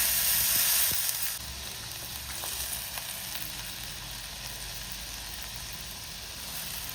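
Jaggery heats in a pan for gooseberry pickle, giving a steady, close sizzling hiss that is loudest in the first second, then settles into an even bubbling crackle.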